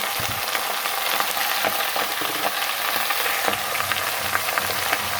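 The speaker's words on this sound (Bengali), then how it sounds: "এবার আমি পুঁই শাকগুলো ছেড়ে দেব।" Malabar spinach frying in a pan hisses with a dense, steady sizzle and light crackle throughout, close and even, with occasional small stirring clicks and no speech.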